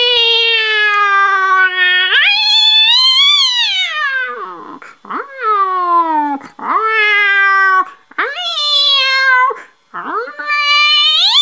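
A human voice imitates a tomcat threatening a rival tomcat: loud, drawn-out yowling wails rise and fall in long, sliding moans, broken by short gaps and sharper, clipped cries.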